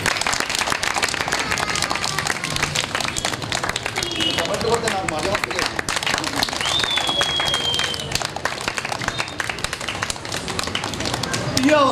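Clapping from a crowd at an Anganwadi centre nutrition-week event, a dense steady patter of many hands running the whole time, with voices and chatter mixed in beneath.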